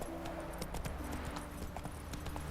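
Roach, a horse in The Witcher 3: Wild Hunt, galloping with a steady rapid clip-clop of hooves, moderately quiet under a continuous game background.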